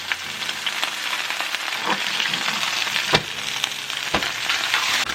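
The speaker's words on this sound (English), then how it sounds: "carefully flip your cod and cook for another 3 minutes" Garlic butter cod fillets sear in a hot skillet, giving a steady loud sizzle and crackle with a few sharp pops and scrapes and no voices.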